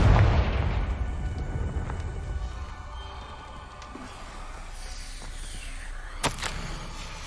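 Blasting-curse explosion in the Hogwarts Legacy game: a heavy low boom bursts out at the start and rumbles off into a sustained roar, with a sharp crack near the end.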